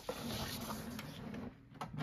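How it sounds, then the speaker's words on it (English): An Epson ET8550 printer prints a page, giving a steady mechanical hum and whir with a couple of brief clicks near the end, moderately close and fairly quiet, with no talk over it. "I think it's printing another one."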